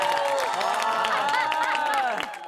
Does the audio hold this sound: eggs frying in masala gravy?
no